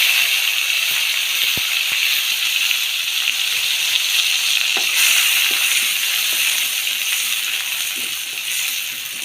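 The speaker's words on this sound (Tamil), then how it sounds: "அது கூடவே வெங்காயம் கட் பண்ணி வச்சுருக்கிறேன் இதையும் சேர்த்து நல்லா வதக்கி வச்சுக்கலாம்" Sliced onions sautéing in a pan for chicken liver fry, a steady close hiss and sizzle of frying with a few faint utensil clicks throughout, no voices.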